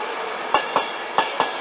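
Class 91 locomotive 91110 moving through Peterborough station, with four distinct rhythmic wheel clacks over rail joints against a steady rolling rumble.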